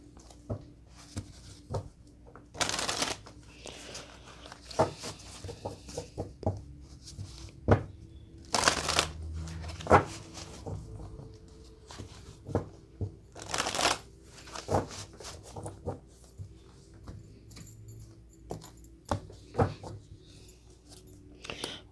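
Tarot cards being shuffled in repeated bursts of riffling and sliding, close and crisp, with quiet handling sounds between the shuffles.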